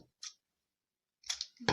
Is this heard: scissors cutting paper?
yes